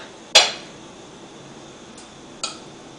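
A pot of popcorn kernels on a hot burner, shaken in two short bursts: a sharp metallic clatter near the start and a softer rattle about two seconds later, close and otherwise quiet between.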